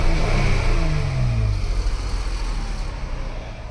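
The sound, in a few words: Chrysler 3.6 V6 engine revving, exhaust leak or rattle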